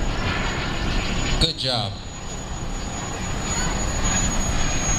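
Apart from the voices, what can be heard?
radio-controlled jet model aircraft flying at jet rally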